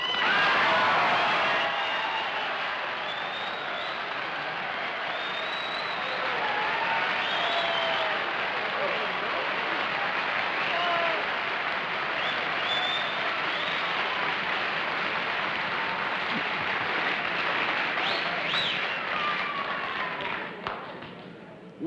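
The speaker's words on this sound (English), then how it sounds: "I don't know what you can get from that applause" Studio audience of a live television panel game show applauds a mystery guest in a long, sustained wash of clapping that swells and holds for about twenty seconds, with scattered shouts and murmurs mixed in.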